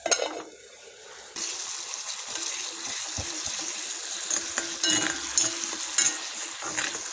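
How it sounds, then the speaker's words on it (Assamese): Tomatoes fry and get stirred in a pan for an okra and tomato dish: a continuous nearby sizzle that grows after a quieter start, with occasional clinks and scrapes of stirring. "এতিয়া বিলাহীখিনি সম্পূৰ্ণ গুড়ি হৈ নোযোৱালৈকে আমি ভাজি থাকিম"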